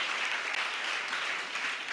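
Sustained audience applause at a pitch competition in a theatre hall, a dense wash of many hands clapping steadily and fairly loud for a couple of seconds with no one speaking.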